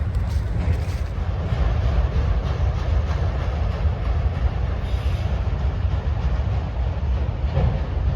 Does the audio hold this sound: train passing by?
yes